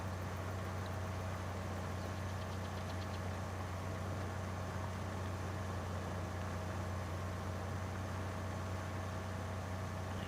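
Tractor engine in Farming Simulator 22 running at a steady low drone, a constant even hum while mowing a field, with no other sounds on top.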